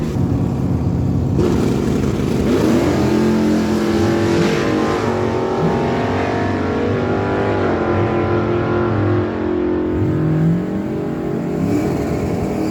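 A GMC step-side pickup and a Malibu drag racing at Miramichi Dragway, engines roaring loud and continuous as they launch and rev through gear changes, with no voices heard.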